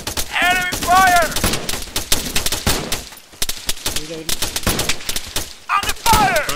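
Gunfire rattles in the video game Arma 3 during a military operation, with bursts of sharp, loud shots and automatic fire throughout, mixed with voices calling out over radio-like chatter.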